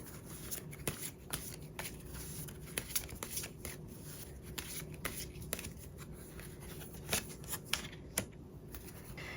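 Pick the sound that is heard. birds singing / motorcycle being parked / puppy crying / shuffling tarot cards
shuffling tarot cards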